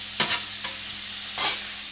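Chopped beef and onions for a chopped cheese sandwich cook on a hot griddle, giving a steady close sizzle broken by a few short scraping bursts of stirring and chopping.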